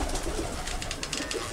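Racing pigeons cooing softly and continuously at close range, with a low steady murmur and faint rustling beneath.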